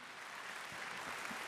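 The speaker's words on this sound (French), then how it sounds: "Allez, un petit coup d'applaudissement" An audience applauds an award winner at a company celebration in Lyon, giving a steady, dense wash of clapping that stays even and moderately distant.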